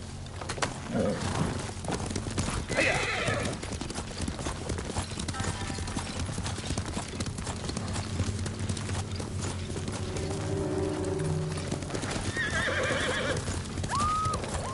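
A horse gallops with rapid, steady hoofbeats in the samurai video game Ghost of Tsushima, with a neigh or two over the pounding rhythm and faint ambient game sound behind it.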